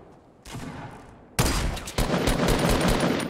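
Fortnite gunfire during a build fight, a muffled burst followed by loud close rapid shooting and sharp sniper cracks in a dense barrage.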